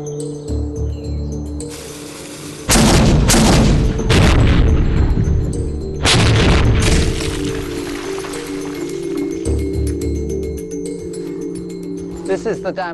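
Two heavy booming cannon blasts a few seconds apart, 1.5 kg cannonballs fired into a solid oak target, each a loud broadband impact with a crackling tail, over a steady low background hum.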